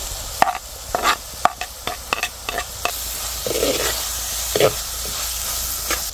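Mango pieces dropping into hot oil and stirred in a pan, sharp clacks of a spoon against the pan over a continuous hissing sizzle, busier at first and then settling into a steady fry.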